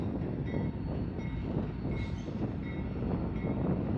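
A BNSF freight train rumbles past at close range in Roseville, California, heavy continuous rolling wheel noise with faint squeals, steady and loud throughout and with nobody talking.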